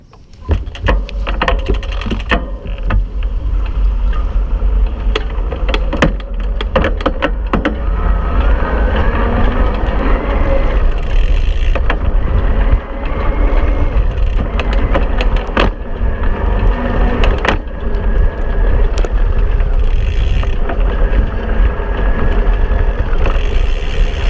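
An iZip E3 ProTour electric bike rides steadily with a continuous drivetrain hum and rushing noise, broken by brief clicks from pedaling and gear shifts, loud and close throughout.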